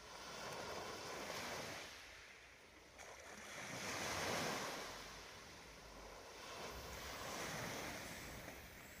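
Ocean waves rolling in, a soft broad wash of surf that swells and recedes in slow surges, with a light hiss of wind over the water and no voices.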